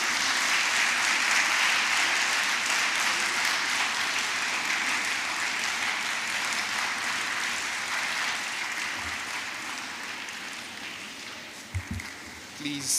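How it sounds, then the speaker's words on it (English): An audience at a women's forum applauds, a broad steady roar of clapping that slowly thins and fades toward the end, followed by a few brief knocks and a voice. "Please, another round of applause for"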